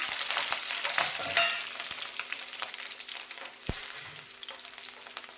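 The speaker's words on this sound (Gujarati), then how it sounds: "અત્યારે મેં એક કેપ્સિકમના આ રીતે ઊભા ટુકડા કરી લીધા છે તે આપણે તેલની અંદર લઈ લઈશું" Capsicum cut into lengthwise strips sizzles steadily in hot oil with cumin seeds, a dense close crackle with a few stirring clinks and scrapes, no voices.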